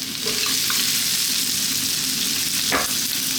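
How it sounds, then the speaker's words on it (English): Ginger, garlic and onion hitting a hot, smoky pan for broccoli fried rice, a loud steady frying hiss up close with a single sharp stir or scrape near the end. "Let's start off by dropping in our ginger and our garlic and our onion,"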